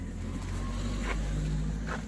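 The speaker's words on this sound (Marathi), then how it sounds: "हे रिक्षा मी चालवणार आहे." Low, steady engine rumble of an idling auto rickshaw up close, a continuous throb with slight variation and no talk over it.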